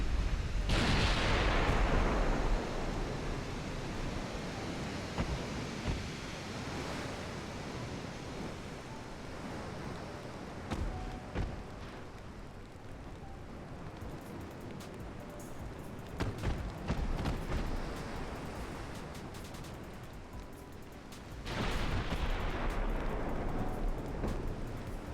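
Enemy warships return artillery fire in the naval battle game Ultimate Admiral: Dreadnoughts, heard as a heavy booming blast followed by a long rumbling roar of sea and gunfire, with a second loud blast near the end.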